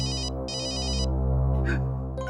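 Phone ringing with an electronic ringtone, two clear repeated bursts of a bright warbling tone separated by a short gap, then a brief higher chirp and another burst starting, over a steady low hum.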